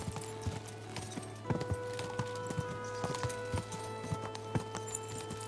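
Horse hooves clip-clop steadily during riding in the video game Kingdom Come Deliverance 2, a brisk rhythmic patter of hoofbeats over a low constant hum, close and continuous.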